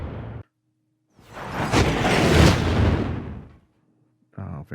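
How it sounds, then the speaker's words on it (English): A single phased effect whoosh from a sound library swells up, roars for about two seconds and fades away, bracketed by brief silences. "Phase whooshes, effect whooshes."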